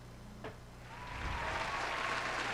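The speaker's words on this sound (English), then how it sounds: "you're going to have to hit your applause again for the most improved" A crowd of clapping swells in after a short tick, rising into steady, fairly loud applause that continues to the end.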